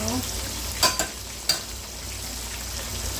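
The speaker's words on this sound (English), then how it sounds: "So I'm gonna keep frying them up" Steady, close sizzle of breaded pork frying in a hot pan, broken by a few sharp clinks of a utensil against the pan.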